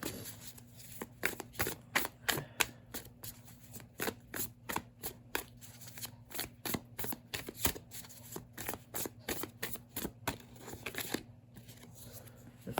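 Tarot cards are shuffled and drawn, a quick string of crisp riffling snaps and soft card flicks, close and fairly quiet, with no talk over them.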